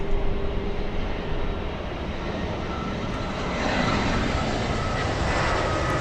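Boeing 747 jet airliner passing at LAX, a steady broadband engine roar that holds loud and even throughout, swelling slightly in the second half with a faint rising whine.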